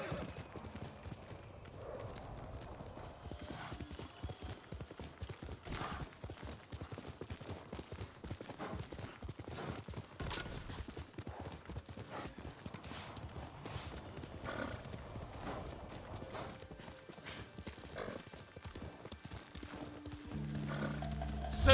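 Horse hooves clip-clop steadily in a video game, with occasional whinnies over dense background game sound throughout.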